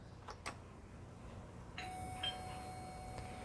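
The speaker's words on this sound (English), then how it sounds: "if I press the button, the doorbell sound will come out itself." A quiet electronic doorbell chime sounds once over a faint background hum, preceded by a couple of soft clicks.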